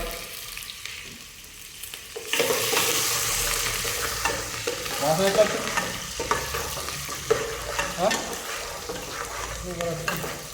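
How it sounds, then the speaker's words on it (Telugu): Cumin, green chilies and onions stirred in a hot pan, a sudden sizzle starting after a quiet moment and then continuing under irregular scraping strokes, close and with no talking. "జీలకర్ర పచ్చిమిరపకాయలు ఉల్లిగడ్డలు అన్నీ వేసుకొని మంచిగా కలపాలి"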